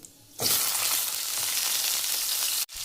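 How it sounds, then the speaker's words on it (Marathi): Sliced bitter gourd dropped into hot oil with cumin seeds, a sudden loud continuous sizzle that holds steady for about two seconds before cutting off, close and with no voices. "आपण हे कारले ना या तेलामध्ये भाजून घेणार आहे, चांगले म्हणजे फ्राय करणार आहे चांगले तेलामध्ये."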